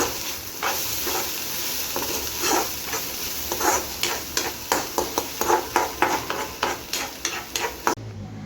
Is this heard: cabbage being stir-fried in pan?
yes